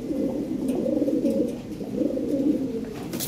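Fancy pigeons, including Red Lahore birds, coo in a loft at a sale, soft rolling low coos repeating in two close swells with no talk.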